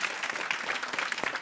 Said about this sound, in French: on peut l'applaudir pour sa souplesse